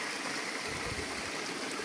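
Stream water flowing steadily at the Moghan spring source, a continuous broadband rush with no voices, close and constant throughout.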